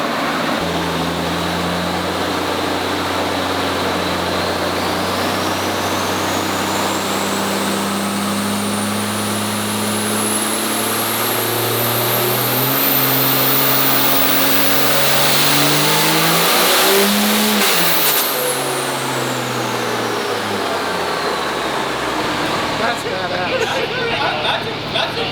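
A stock 5.9 diesel making about 1300 hp on a dyno with a shot of nitrous roars steadily and loud for the whole stretch, its pitch climbing through a long pull before easing off, with voices talking over it.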